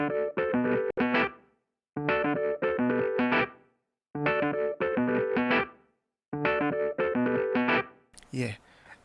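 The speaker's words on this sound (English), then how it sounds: "this Rhodes piano sample that I started. That was the foundation of the beats." A Rhodes electric piano sample from a beat, with effects such as chorus and distortion, repeats as four short phrases of rhythmic chords separated by gaps, followed at the end by a burst of noise.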